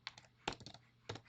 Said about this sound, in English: And I'm typing those in because we saw them on the 1860 census.